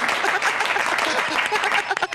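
Audience applause from a played clip of a Philippine political event, a dense, steady wash of many hands clapping at moderate loudness for about two seconds, with no clear voices on top.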